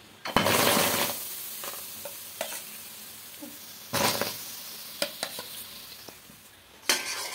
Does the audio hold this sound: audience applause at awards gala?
no